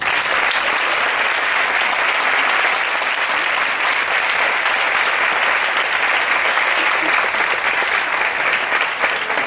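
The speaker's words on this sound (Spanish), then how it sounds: "Para ellos pido un fuerte aplauso." Loud sustained applause from a gala audience, a thick, even wash of many hands clapping that holds at full strength from start to finish.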